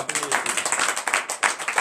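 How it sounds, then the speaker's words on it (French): A French-speaking congregation at a night deliverance worship service acclaims Jesus with dense, loud clapping and cheering; voices are heard throughout the short burst. "Donnez encore l'acclamation à Jésus."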